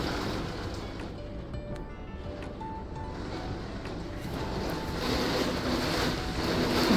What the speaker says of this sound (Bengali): মুষলধারায় বৃষ্টি পড়ছে, সাথে হাওয়া দিচ্ছে।